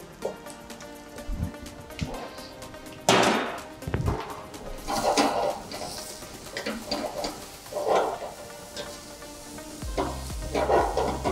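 Carrot and chopped celery stirred in a pan over heat, with a scraping, sizzling texture and intermittent utensil clinks and knocks throughout, no voices.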